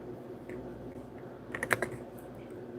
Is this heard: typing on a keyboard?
yes